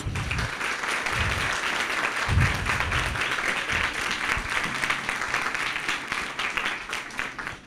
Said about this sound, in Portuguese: Fernanda Rezende, a quem eu peço uma salva de palmas.